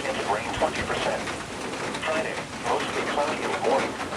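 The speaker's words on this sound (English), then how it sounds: "It's still raining." Steady rain pours down during a thunderstorm, a constant broadband hiss with no pause, while a person talks quietly over it at intervals.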